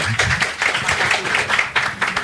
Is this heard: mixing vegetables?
no